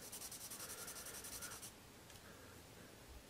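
A Dixon Ticonderoga pencil scratches across paper in quick back-and-forth strokes, a soft, close, dry rubbing that eases off partway through, with no voices.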